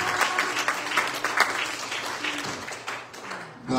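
A church congregation claps hands during a sermon, a fairly dense round of applause that thins slightly toward the end, with faint voices mixed underneath.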